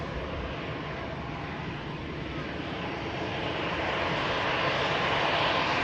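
An Airbus A319 of TAP Air Portugal, arriving from Lisbon, approaches Manchester Airport. A distant, soft jet rumble slowly swells louder toward the end.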